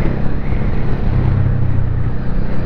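A Honda Shadow motorcycle fitted with dirt bike handlebars and a slightly sticking throttle runs with a steady low engine rumble, mixed with wind noise while riding. No one speaks.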